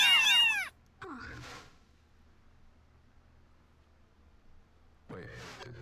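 Kittens from a litter meowing loudly in short bursts at the start, then again near the end, separated by a quiet stretch with a faint low hum.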